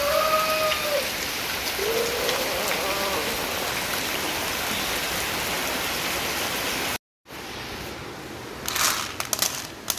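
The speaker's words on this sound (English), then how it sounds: "It's the rain." Rain falls steadily outdoors in an African village as a dense, constant hiss for about seven seconds, then drops out briefly before resuming with a few sharper drips and knocks.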